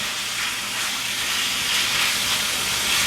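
Ground taco meat browning in a pan, a steady loud sizzle and hiss that holds constant throughout, heard close with no talking.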